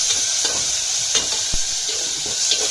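Cumin and garlic paste, hand-pounded in a mortar, sizzles steadily in a pan for rasam, with a few light scrapes and taps of stirring over the constant hiss.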